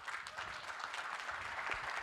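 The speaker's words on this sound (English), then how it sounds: "I need everybody to give a round of applause for this panel." Audience applause after a panel discussion at a conference event, steady dense clapping from a crowd filling the whole short stretch.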